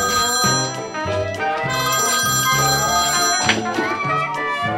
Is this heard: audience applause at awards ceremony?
no